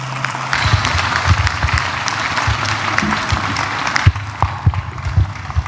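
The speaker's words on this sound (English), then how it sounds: "I think we can give him a better round of applause." A university graduation crowd at Cavendish University gives sustained applause, with dense clapping close and far, a few louder individual claps, and faint voices underneath.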